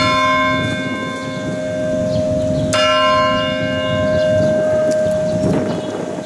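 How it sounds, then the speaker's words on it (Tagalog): A large cathedral bell rings with a long, humming resonance, struck again midway, its tone ringing on steadily over faint outdoor noise. "So ni bagting na ang atong kampana diri sa Katedral."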